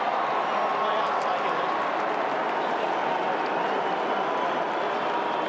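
Richmond Tigers fans roar steadily after a goal at an Australian football elimination final, a dense, loud, unbroken crowd cheer filling the whole stretch.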